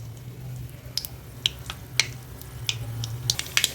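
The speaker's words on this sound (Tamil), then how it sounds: "கடுகு கொஞ்சம் வெடிக்கட்டும்" Mustard seeds and asafoetida popping in hot oil while tempering for a spicy tamarind green-chilli dish: scattered sharp crackles and pops, sparse at first and quickening near the end, over a low background hum.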